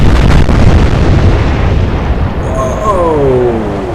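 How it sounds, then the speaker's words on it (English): The battlecruiser Renown's magazine detonates in a naval video game, a loud booming blast that rolls into a long rumble, with a rising whistle-like tone near the end. "Magazine detonation sinks the Renown."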